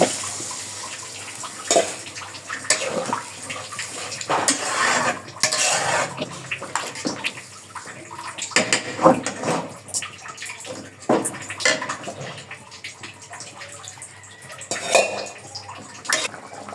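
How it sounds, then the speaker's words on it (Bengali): Water poured into a cooking pot of vegetable curry, splashing and trickling up close amid clinks of pots and utensils, no voices. "এখন পানি দিয়ে দিব।"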